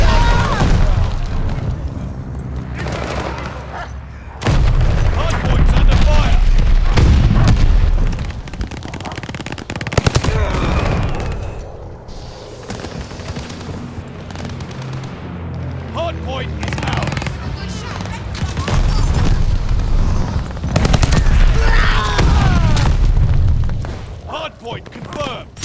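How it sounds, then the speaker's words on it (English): Bursts of gunfire and a sticky bomb blast in a first-person shooter's hardpoint match, with heavy booms and rapid automatic fire over a long stretch, while game voice announcements and talk run throughout. "They tossed the sticky bomb! Hardpoint's under fire!"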